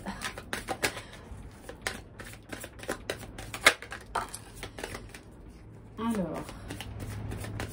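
Oracle cards riffled and shuffled by hand in a series of quick, crisp bursts, close and fairly quiet, with a steadier rustle near the end.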